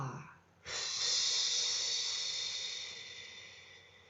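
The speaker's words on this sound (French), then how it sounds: "Ces respirations, vraiment, elles nous alignent avec nous-mêmes." A deep, slow breath is drawn in after a short pause, then a long airy exhale flows steadily and fades gradually, close and alone, during a guided breathing exercise.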